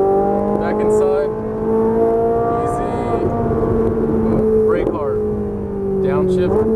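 A Ferrari 458 Italia engine on a race track in Vegas holds a loud, close, steady high-pitched drone that rises and dips with the throttle, with brief voice sounds over it.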